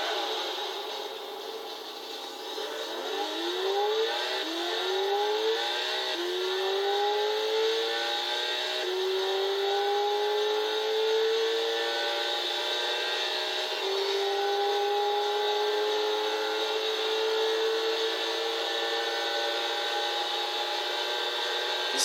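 A Ford Mustang SVT Cobra R in Gran Turismo 6 revs and climbs through the gears, its engine tone rising in repeated smooth sweeps, loud and steady over a continuous whine.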